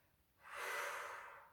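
A single deep breath is drawn in during a guided relaxation exercise, a soft, airy inhale that swells over about a second and then tapers. It is heard close and alone in a quiet room.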